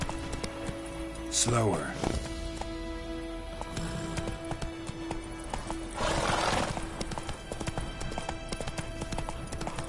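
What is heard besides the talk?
horse hooves clip-clopping while riding in video game The Witcher 3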